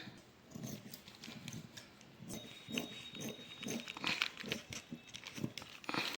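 Blouse fabric is cut close up, giving a steady series of crisp crunching snips with a faint rustle of cloth between them and no talking.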